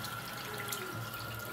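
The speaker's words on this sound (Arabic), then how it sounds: "ما تيجي تطلق ميه سخنه" Hot water pours from a kettle into a strainer holding instant noodles, a continuous close splashing stream for the whole short moment with no voices.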